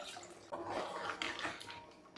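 Boiled water poured into a pot of paya, a goat trotters curry simmering with cumin powder, makes a steady splashing gush for about two seconds, close and moderately loud with no talking.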